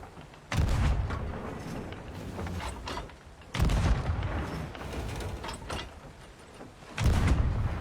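Cannon fire in a Sea of Thieves session: three heavy booming blasts spaced a few seconds apart, each a loud broad thump that rolls into a long rumbling tail, the shots fairly close with no talk over them.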